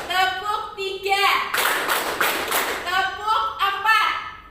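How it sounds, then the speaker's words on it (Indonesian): A classroom of children claps in short counted bursts, sharp clustered hand claps in the middle and near the end, with a teacher's voice and children chanting counts between and around them. "Tepuk 3. Tepuk 4. Tepuk 1. Tepuk 2. Tepuk 3."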